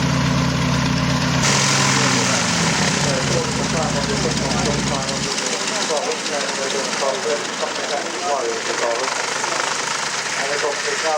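An aircraft landing at an air show, its engine droning loudly and steadily, with a low rumble that drops away after a few seconds, while someone commentates over it.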